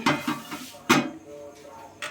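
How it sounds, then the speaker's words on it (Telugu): A metal cooking pot is set down on a stove in a village kitchen, giving a few close clattering knocks, the sharpest near the middle, with no talk over them. "ఒక గిన్నె పెట్టుకుందాం."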